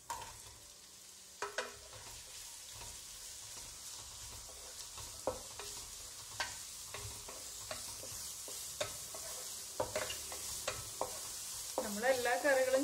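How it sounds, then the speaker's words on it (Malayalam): Sliced onions stirred and fried in a pan for a potato and cauliflower curry, with a soft steady sizzle under scattered clicks and scrapes of a spoon against the pan, close and moderately quiet, no talk. "ഇതിലേക്ക് നമുക്ക് സ്ലൈസ് ചെയ്ത് വെച്ചിരിക്കുന്ന ഓണിയൻസ് ചേർക്കാം."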